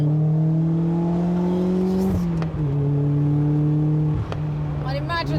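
A Lotus sports car engine holds a steady, loud drone with slight pitch shifts, briefly dipping and settling twice as though blipped, with a faint overlay of voices toward the end.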